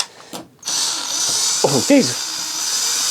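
A power drill whirs steadily, spinning drywall screws into a wall at close range, with a brief voice breaking in partway through.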